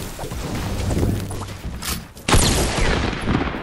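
Gunfire in a video game fight with a sharp loud shot burst about midway, the rest a dense crackle of distant shots and effects.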